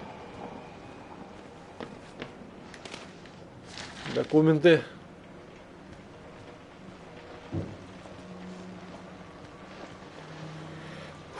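Thunder rumbling in the horror game Outlast on stepping outdoors, with a loud crackling peak midway over steady rain and someone talking now and then.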